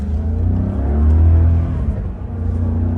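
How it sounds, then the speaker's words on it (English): A Maserati Quattroporte sedan in sport mode revs its engine with a deep, close, throaty roar that swells in the middle and then eases into a steady hum, with no talk over it. "I'm gonna put it in sport mode and give it some throttle"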